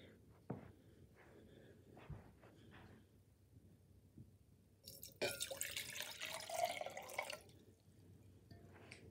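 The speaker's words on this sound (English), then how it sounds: "So I have some water measured out here." Water is poured from a measured container into a small dollar-store vase being set up for Sea-Monkeys: a couple of faint drips and taps at first, then a close, bright pouring splash for about two seconds before it settles back to quiet.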